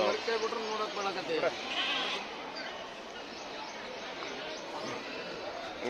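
At a Thursday morning sheep and goat market in Haveri, Karnataka, sheep bleat in short wavering calls beneath loud, close-up talking and busy crowd noise.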